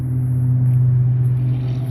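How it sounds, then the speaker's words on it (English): Traffic on Trancas Street rumbles steadily along a riverside walking trail in Napa, a continuous low engine drone from nearby cars, fairly loud and unbroken, with no voices. "you can hear the traffic on Trancas Street"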